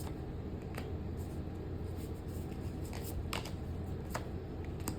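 Tarot cards being shuffled by hand, a continuous papery riffling with several sharper flicks and snaps standing out, close and fairly loud with no talking.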